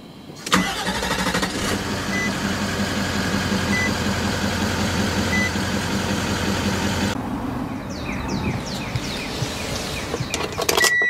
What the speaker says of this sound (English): Just put your foot on the brake and hit the button to start.